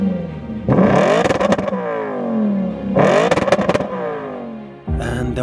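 Audi RS5 engine and exhaust under acceleration, two loud rising revving surges separated by gear changes, followed by a third burst at the end.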